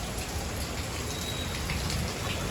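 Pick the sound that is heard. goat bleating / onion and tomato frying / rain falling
rain falling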